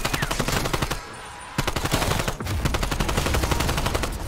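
Call of Duty Cold War gameplay of a firing sequence: loud, rapid automatic gunfire rattles in dense bursts almost throughout, with one short pause partway through.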